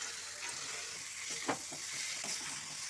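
Potatoes and fried soya chunks sizzling in cooked-down masala in a pan, a steady soft sizzle with a single louder clatter midway and light stirring scrapes after, no voices.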